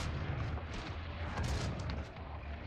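Dense, continuous gunfire and booming blasts from the video game Doom, loud and near, rumbling without pause through the whole stretch with no talk.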